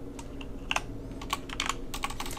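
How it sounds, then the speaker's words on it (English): Quick bursts of keystrokes on a computer keyboard, close and clicky, uneven taps clustered together over a soft room hum. "And I'm gonna type out"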